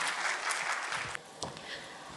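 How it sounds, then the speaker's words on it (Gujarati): An indoor audience applauds to welcome speaker Radha Mehta at a Gujarati talk, a dense burst of clapping that thins out after about a second. "એકવાર પહેલા એ બોલે એની પહેલા બહુ બધી તાળીઓ હોવી જોઈએ"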